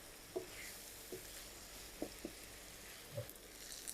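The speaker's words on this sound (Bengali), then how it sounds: "আমি পেঁয়াজ আর আদা রসুনটাকে প্রায় 5 থেকে 6 মিনিট কষিয়ে নিলাম।" Onion and ginger-garlic paste fry in a pan with a steady low sizzle, broken by a few soft stirring knocks and scrapes at irregular intervals.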